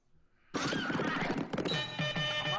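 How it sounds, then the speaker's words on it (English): A horse neighs within a psychedelic rock track, a loud whinny bursting in abruptly over the music and trailing into ringing tones, brief and prominent. "I heard a horse for just a split second."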